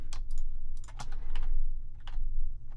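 A computer keyboard is typed on in short bursts of close, crisp keystrokes over a steady low hum, with brief pauses between clusters of clicks.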